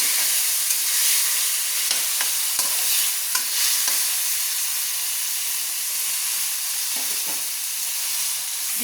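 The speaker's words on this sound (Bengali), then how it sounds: "বোনলেস চিকেনটাকে আমি ভালো করে ভেজে নিচ্ছি। সাদা তেলে আমি ভালো করে ভেজে নিচ্ছি।" Boneless chicken fries in white oil with a loud, continuous sizzle and hiss, broken by a few faint stirring clicks.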